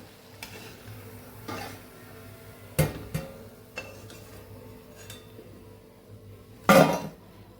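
Freshly fried, crispy Japanese-style french fries are lifted from hot oil onto a dish, giving scattered light clinks and rustles over a faint sizzle, with a few sharper knocks and a loud clatter near the end.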